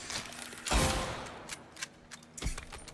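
A single loud rifle shot fired in the Silent Hill 2 Remake horror game, a sharp broadband crack near the start that decays, followed by faint mechanical clicks and a softer impact thud a couple of seconds later.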